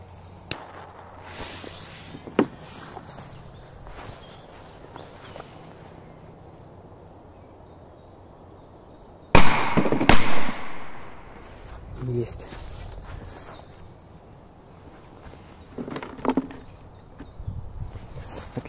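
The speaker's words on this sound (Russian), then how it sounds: "Следующий также будет два взрыва." A firecracker bursts in two rapid, loud explosions close together, each with a short rumbling tail. A voice talks quietly before and after the blasts.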